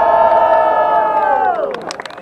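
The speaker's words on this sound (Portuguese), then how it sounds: "Muito barulho pra quem gostou das rimas do Fauzi." A large crowd at a freestyle rap battle in a student battle event cheers and shouts loudly and continuously, the roar holding steady before tapering off into scattered whoops near the end.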